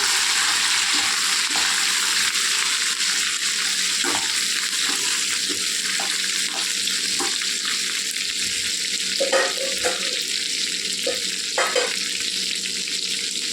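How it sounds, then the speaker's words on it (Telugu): Curry leaves fry in hot oil in a pan for amaranth dal tempering, with a constant loud hiss and sizzle and occasional small pops and utensil clicks. No voices are heard. "కరివేపాకు వేగిపోయిందండి"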